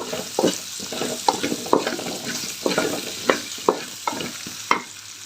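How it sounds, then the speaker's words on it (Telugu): Puree for a Rayalaseema-style hotel gravy frying in oil while being stirred, with a soft sizzle under repeated scraping strokes of a spoon against the pan in an uneven rhythm. "ఆ ఫ్యూరీని అయితే దీనిలో మిక్స్ చేసేసుకున్నాం బాగా కొంచెం ఇట్లాగా ఆయిల్లో వేపుకున్నాం"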